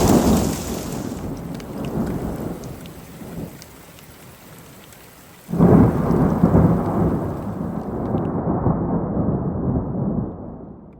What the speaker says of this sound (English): The storm put on a show of rain, hail, and lightning that lasted well into the evening.